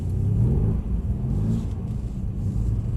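A Mercedes-Benz car engine rumbles low and steady under throttle, with a slight swell and dip in the middle as the driver eases on and off the pedal.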